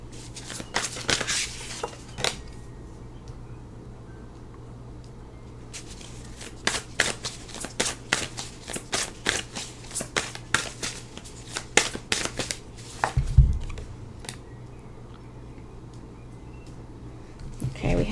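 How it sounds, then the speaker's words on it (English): Oracle cards being shuffled by hand for a live reading, soft irregular riffles and taps coming in bursts, close but quiet, with someone talking over parts of it. "So let's go ahead and start to shuffle."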